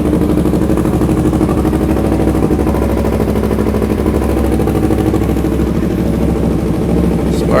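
A Yamaha YZF R3 motorcycle engine idles steadily just after a spark plug change, a continuous close, even low rumble with no surging across the whole stretch.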